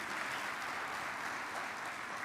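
A church congregation claps together at a youth service, a continuous wash of applause that fills the short span without speech.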